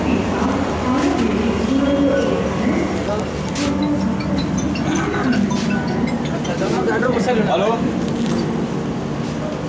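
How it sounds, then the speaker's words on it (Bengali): An air-conditioned train departs and rumbles steadily with faint rattles and clinks of the carriage, while voices talk over it inside. "ট্রেন ছেড়ে দিল আমাদের"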